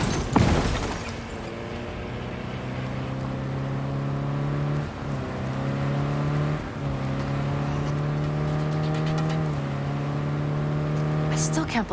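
A car is driven in the Cyberpunk 2077 video game, its engine humming steadily and shifting pitch as it speeds up through several gears, with a sharp crash near the start and at the end.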